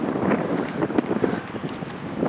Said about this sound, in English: Probably all you can hear is the wind.